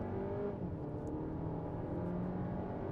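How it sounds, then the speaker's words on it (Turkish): New Volkswagen Tiguan engine pulls hard under full acceleration from standstill toward 100 km/h, a steady loud whirring drone from inside the cabin with no talking. "Şöyle arkamız boşken bir 0-100 yapalım bakalım."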